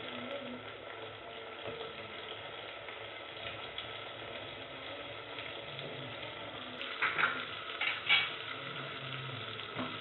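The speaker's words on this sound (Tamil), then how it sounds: "இப்போ நம்ம கட் பண்ணி வச்சுருக்கிற கத்திரிக்காயும் சேர்த்துடலாம்." Cut brinjal tossed into a hot frying pan for a South Indian tomato sabzi, giving a steady sizzle of frying with occasional scrapes and stirs of a spoon, continuous and close.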